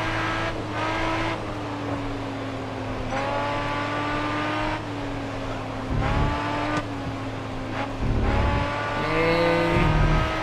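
Race car engines in Grid Autosport hold a steady, droning whine that rises through the gears, drops sharply on each shift and climbs again, with a second car's note joining near the end.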